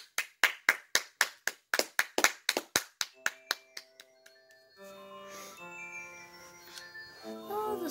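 Hands clap in a quick, regular burst of sharp, close claps that slows and stops, followed by chiming electronic melody and notes from a Super Mario Bros. 3 game.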